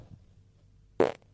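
A single short, loud fart bursts out near the end after a quiet lull, brief and buzzy with a raspy flutter, standing alone without talk.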